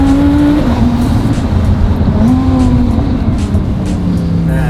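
A rebuilt twin-turbo Lamborghini Huracan engine drives hard and loud up close, its steady roar rising and falling through gear shifts with no talking.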